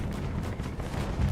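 Deep, rumbling artillery fire in the Fallout 76 video game, a dense continuous low boom filling the short moment without pause.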